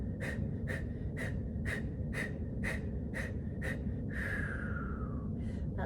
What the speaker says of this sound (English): you breathe out as you push the stomach muscles in